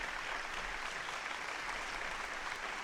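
Applause in the video game Kirby and the Rainbow Curse, a steady dense wash of clapping lasting the whole moment at even loudness, with no voices over it.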